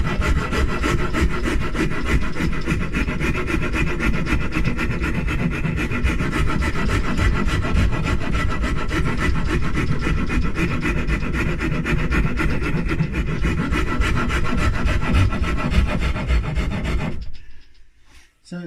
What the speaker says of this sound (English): working with the file, gets there eventually